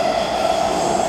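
A Warsaw metro train in motion, heard from inside the carriage as a steady, loud rumble with a sustained tonal whine, continuous and even throughout with no voices.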